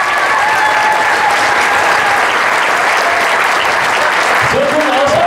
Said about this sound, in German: einen riesen Applaus für unseren Techniker.